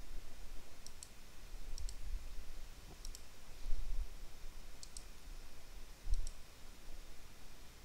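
A computer mouse clicks in a quiet room, about five or six sharp double clicks spaced roughly a second apart, with no talking.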